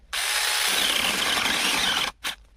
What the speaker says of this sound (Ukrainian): Тестуємо пилку в польових умовах. Мочаємо її у масло, бо тут немає змащування. І починаємо різати.